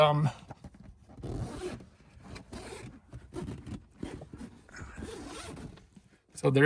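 Zipper on a CFMOTO G2 Trail soft upper door being opened and closed in several long rasping pulls, close up, with brief talk at the start and end.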